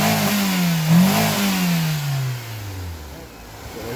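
Nissan Bluebird SSS engine after throttle body, idle control valve and airflow sensor service, revving loudly up close and then falling back toward a smooth idle.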